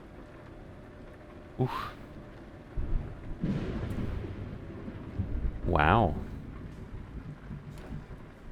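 Rain and rolling thunder during a stormy night drive in Euro Truck Simulator 2, low rumbles swelling beneath steady rain, with a man's brief exclamations over it.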